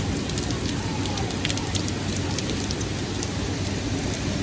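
Heavy rain from the remnants of Hurricane Ida pours over New York City streets, a dense, steady hiss with patters and spatters throughout, constant and close with no letup.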